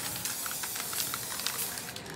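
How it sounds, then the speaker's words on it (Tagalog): An aerosol spray paint can hisses steadily and fairly loudly as it coats a plastic cabinet during a DIY makeover, a continuous broadband spray lasting the whole stretch with slight pulsing and no voices. "So, kahit saan mag-spray pwede?"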